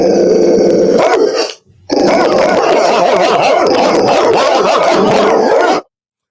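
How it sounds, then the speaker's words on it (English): Several dogs bark and growl loudly and close by, a dense snarling mix with a brief pause partway through before it resumes. "Can you let the dogs out for Morocco Pop, please"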